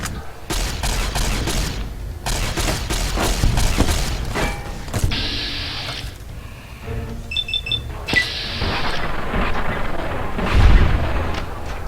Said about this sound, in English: Let's use a laser rifle.